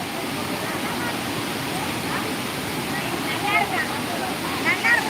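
Courtallam waterfall makes a broad, steady rushing roar that fills the whole stretch, while people talk over it.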